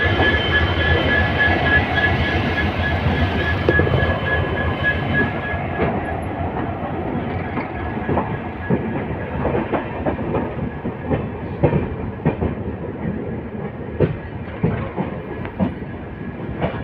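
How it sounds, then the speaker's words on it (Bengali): The Padatik Express passenger train runs from New Jalpaiguri toward New Alipurduar, heard from aboard as a loud continuous rumble with steady clickety-clack of wheels over rail joints and occasional faint wheel squeal. "ছয় মিনিট দেরিতে এই মুহূর্তে রওনা দিল নিউ আলিপুরদুয়ার স্টেশনের উদ্দেশ্যে"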